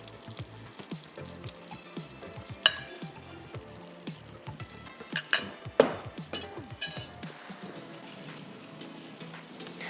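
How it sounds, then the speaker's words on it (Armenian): Pasta is tossed into a pan of cream sauce with shrimp, garlic, tomato and cheese. A quiet, low sizzle runs under repeated clinks and scrapes of a utensil stirring against the pan. "հիմա արդեն կարող ենք պաստան լցնել, որպեսզի միասին համերը խառնվեն եւ իհարկե մեր պաստան, եթե սառել է, հասցնի տաքանալ"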